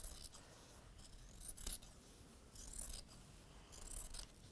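Sharp sewing scissors snip through ironed fabric while a wall hanging is being made, the blades closing in about four crisp, close cuts spaced a second or so apart over a quiet background.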